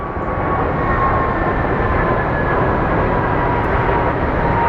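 An Allegiant Airlines airliner at Phoenix Sky Harbor airport gives off a steady, loud, broadband engine roar with a faint whine, holding constant throughout.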